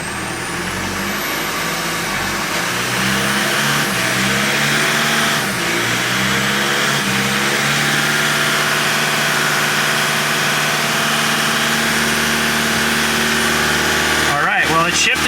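Car engine with a European 4motion transmission, running steadily and loud with tones that climb and settle as it shifts gears, ending in a brief clatter.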